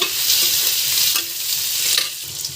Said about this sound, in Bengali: কাঁচা লঙ্কাগুলোকে কিছুটা একটু ভেজে নেব।